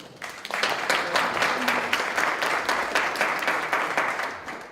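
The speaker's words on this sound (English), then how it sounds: "please give them a round of applause, please." An audience at a city council and homeowners' association meeting claps together in steady, dense applause for several seconds, fairly loud and sustained before it trails off.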